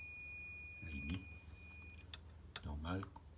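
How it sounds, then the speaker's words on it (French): A multimeter's continuity tester gives a steady high-pitched electronic tone continuously, then cuts off, while someone speaks quietly around it. "Là, il bip."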